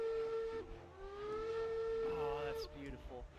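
A steam locomotive whistle in a video game sounds a long steady tone, briefly breaks, then blows again at length; a person speaks briefly over it afterward.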